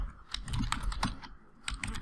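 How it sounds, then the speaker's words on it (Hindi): Typing on a computer keyboard, with rapid irregular key clicks and taps close up, steady throughout with no talk. "इस तरह आपने यहाँ पे टाइप करना है।"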